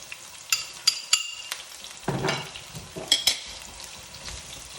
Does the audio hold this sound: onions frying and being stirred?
yes